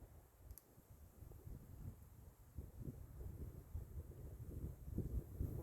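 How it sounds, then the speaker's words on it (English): Low, gusty wind on a golf course in winter buffets the microphone with an uneven rumbling roar that swells and fades, with no other clear sounds. "on windy days like this"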